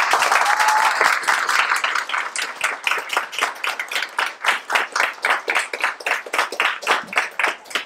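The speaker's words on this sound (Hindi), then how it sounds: "सो आपके लिए जोरदार तालियां है।" An audience at a performance of the play Bakari breaks into loud applause, many hands clapping together in a dense, sustained burst that settles into a steadier rhythmic clapping.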